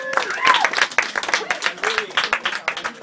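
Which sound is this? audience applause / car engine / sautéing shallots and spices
audience applause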